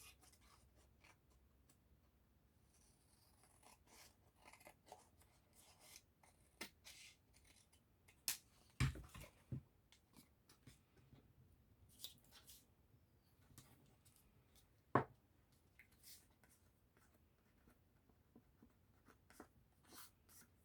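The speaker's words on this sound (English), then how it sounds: "And then we just trim off the edges." Scissors trim the paper edges of a retro junk journal, quiet close snips and rustling paper scattered irregularly, with a few sharper cuts standing out in a near-silent room.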